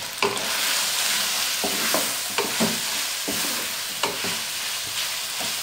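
Chopped onion frying in a pan for a white-sauce chicken pasta, a steady close sizzle broken by several sharp scrapes and taps of a spoon stirring, no talk.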